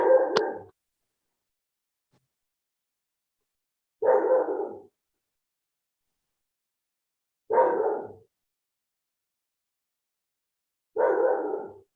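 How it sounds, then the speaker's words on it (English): A single dog barks in four spaced bursts, each a short cluster of barks, separated by several seconds of silence, moderately close and with no other sound. "there's the dog barking"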